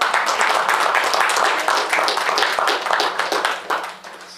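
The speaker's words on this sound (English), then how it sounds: "Let's give her a round of applause." An audience at a school board meeting applauds steadily for several seconds and then tapers off toward the end, with the dense clapping heard at close range.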